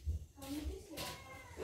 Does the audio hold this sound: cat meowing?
yes